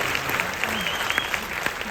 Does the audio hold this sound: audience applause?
yes